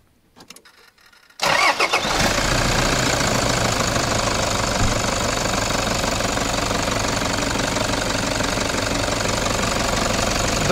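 Toyota Land Cruiser Prado 120 diesel engine cranks and fires after a quiet moment, then settles into a loud, steady, slightly knocking idle close by, with no one talking.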